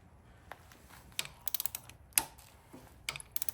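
Ratcheting clicks from a torque wrench set to 40 foot-pounds turning over a used, non-fresh 408ci small-block Chevy engine with a flat camshaft, sounding as scattered sharp clicks in uneven bursts, fairly close and alone.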